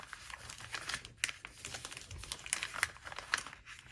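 Paper bag being folded by hand into a small junk-journal album, close crinkles and crisp creases in quick irregular bursts with sharper crackles, no voices.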